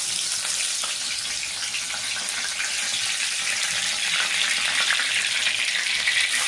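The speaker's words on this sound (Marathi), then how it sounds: "आता घी गरम झालेलं आहे, त्यामध्ये आपण कढीपत्ता सोडूया" Curry leaves sizzle and crackle in hot ghee for a chicken roast, a steady, close, loud broadband frying hiss that holds throughout with no talk.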